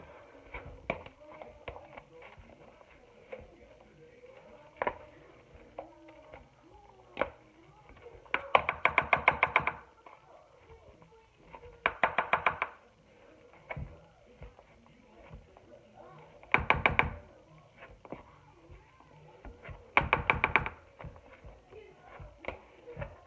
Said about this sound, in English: So now I'm going to just smush these up.